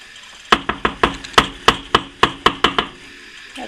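A knife cuts through the sheets of spinach pie pastry, making a run of about a dozen crisp, close cutting taps in a fairly steady rhythm that ends with a brief rustle.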